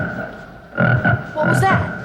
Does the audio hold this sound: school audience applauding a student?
no